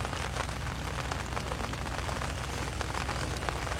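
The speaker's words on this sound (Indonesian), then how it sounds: "Waduh teman-teman, kok hujannya makin deras saja" Heavy rain pours steadily while fishing outdoors, a dense, continuous hiss with no breaks, loud and close throughout.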